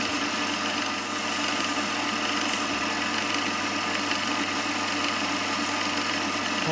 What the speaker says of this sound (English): let's sand this off